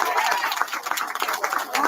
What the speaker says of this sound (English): So give everybody a round of applause for the campaign team